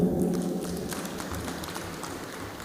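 An audience at a university innovation week presentation applauds, a dense and steady wash of clapping in a hall that carries on throughout without any voices.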